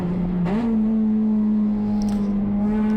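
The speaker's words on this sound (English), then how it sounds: "Kind of an unnecessary downshift, over-revving the car a little bit" A race car at a USTCC touring car practice and qualifying session holds a steady engine drone that jumps sharply in pitch as it downshifts and over-revs, then stays high and constant, heard from inside the car with no talk.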